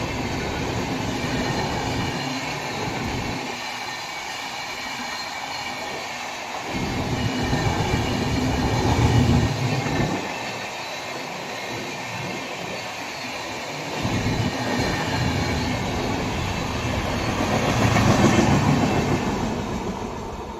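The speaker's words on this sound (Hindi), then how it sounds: "इंडियन रेलवेजের একটা গাড়ি সুন্দর বেরিয়ে গেল" An Indian Railways train passes close by, a long, loud run of rumbling wagons with rhythmic wheel clatter that swells and eases several times over about twenty seconds, with no talking.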